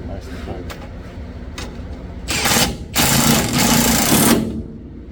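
A power tool runs in two bursts, one short and then a longer steady whirr, as it tightens a nut on a Pontiac LeMans. Someone talks over low mechanical clatter before and after the tool runs.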